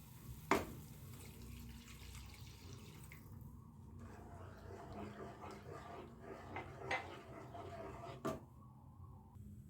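Water poured into a pan of paneer butter masala curry, a soft running splash and trickle in a home kitchen with a few sharp knocks of utensils, fairly quiet throughout.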